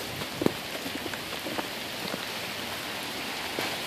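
Steady rain pattering on surfaces during a severe spring storm on a New York City street, a continuous fine hiss with scattered closer drops, heard alone without talk.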